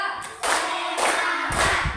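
A school class claps in a counted rhythm, three sharp bursts of many hands together, each a short loud clap cluster separated by brief pauses.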